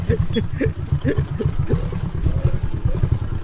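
A motorcycle engine idles on a rough mountain road, a close, steady low chugging pulse with a rhythmic knocking beat and some faint clatter, running throughout.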